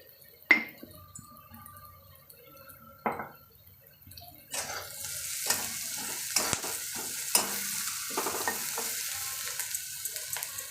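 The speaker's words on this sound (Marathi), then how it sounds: "आता कांदा भाजत आलेला आहे" Chopped onion sizzling in a pan with salt while cooking a dal and onion vegetable dish, with sharp clinks and stirring scrapes early on, then a steady sizzle punctuated by spatula stirs.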